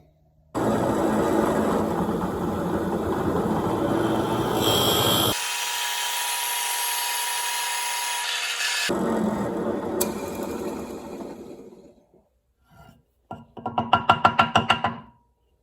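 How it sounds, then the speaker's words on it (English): A drill bores through the center of a wooden ring blank, loud and steady for about eleven seconds with a brief shift partway, then stops, followed by a few short bursts of tool noise near the end. "is drill out the middle of this"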